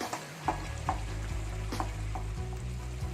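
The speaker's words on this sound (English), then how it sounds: "Now we will mash the tomatoes in the gravy." Tomatoes are mashed into a sizzling mutton karahi gravy, a constant low frying sizzle punctuated by repeated soft thuds and scraping stirs at an irregular rhythm.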